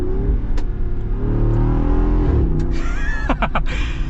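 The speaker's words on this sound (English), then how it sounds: "Listen to that V8." A Jeep Wrangler Rubicon 392's V8 engine rumbles deep and loud inside the car on the road, revving up with a throaty growl as the pitch climbs under acceleration.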